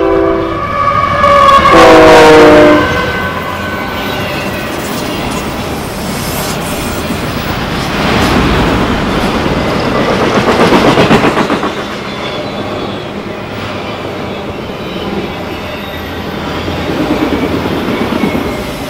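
A passing freight train with a distributed power unit locomotive, its horn sounding early, then steady rumbling of railcars and wheel noise swelling and easing as the train rolls by at moderate distance.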